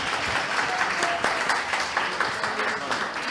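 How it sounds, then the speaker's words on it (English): Audience applause for two poets at a literary event, a dense steady clapping from a crowd that fills the whole stretch at an even loudness, with a few voices faintly mixed in. "please let's give the two poets a round of applause"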